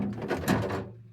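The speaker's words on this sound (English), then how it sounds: "Pull out drawer for milk bottles." A pull-out milk-bottle drawer slides open in the kitchen of an Adria Adora 623 DT Sava caravan, giving a soft, close rolling rumble that fades out after about a second.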